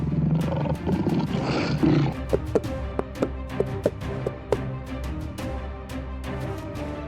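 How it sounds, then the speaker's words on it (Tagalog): A big cat roars and growls up close, followed by a series of sharp, evenly spaced knocks over a low rumble. "Bigla, isang tigre ang sumugod patungo sa kanya."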